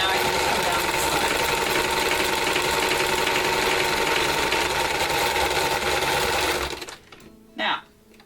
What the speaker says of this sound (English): continue to sew into the middle of the V for the pants